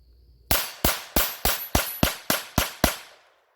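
Nine CCI Velocitor .22 LR rifle shots fired in an even, rapid rhythm, each a loud, close crack with a brief decaying tail, then quiet.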